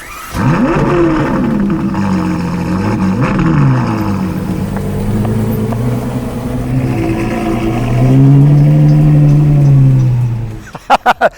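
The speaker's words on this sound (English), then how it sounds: "that's where we're just revving it" A Novitec Ferrari 812 N-Largo V12 revs repeatedly, its loud exhaust note rising and falling in pitch, close and sustained, ending with a few sharp pops.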